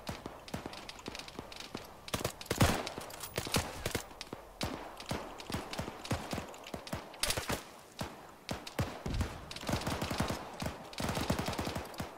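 Rapid bursts of gunfire in a military shooter video game crack steadily for several seconds, some shots single and others in quick volleys, loud and close.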